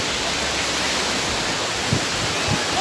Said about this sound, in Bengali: ঢেউগুলো আসছে দেখো,